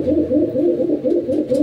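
A male pigeon coos close up in a quick series of low, throaty rolling notes, rhythmic and fairly loud, with no voices over it.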